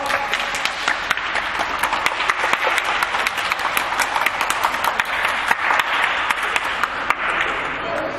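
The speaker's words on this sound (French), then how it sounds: "On applaudit Noura." Schoolchildren on a guided visit applaud a classmate with steady, dense clapping that continues evenly throughout, with sharp individual claps popping out near and loud.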